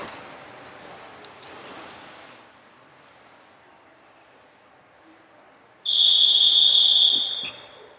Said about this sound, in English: The starter has blown the whistle.